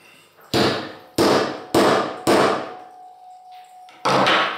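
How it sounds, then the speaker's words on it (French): A hammer strikes a punch five times to set a snap fastener, each blow a loud, sharp, close impact with a short ringing decay, evenly spaced apart, with a faint tone lingering between the fourth and fifth strikes. "et là des coups de marteau."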